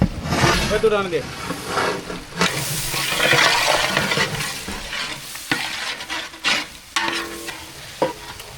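Spices are stirred into chicken biryani gravy in a pan, the spoon scraping and the gravy sizzling in bursts, with a voice talking throughout.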